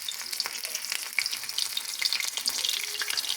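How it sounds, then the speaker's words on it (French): Shrimp tempura frying in hot oil gives a dense, continuous crackle and sizzle with sharp pops, close and steady, with no talking. "Et là, on met dans la friture nos crevettes"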